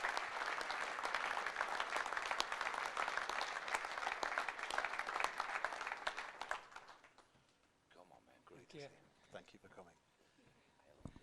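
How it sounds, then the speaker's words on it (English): Audience at a 2018 RL Hall of Fame induction ceremony applauds loudly and steadily for about six seconds, then the clapping fades away and a voice begins speaking over the last scattered claps. "Please give them a big warm round of applause."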